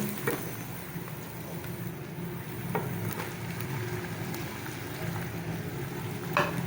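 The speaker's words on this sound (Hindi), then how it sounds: "अब मैं इसको अच्छे तरीके से भूनती हूँ" Chicken with spices fries in a pan, a steady low sizzle with a few scattered clicks from stirring, close and moderately quiet, with no talking.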